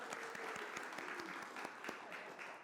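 Congregation at an online church worship service applauds together, a steady dense wash of many hands clapping with a few sharper claps standing out, continuous throughout.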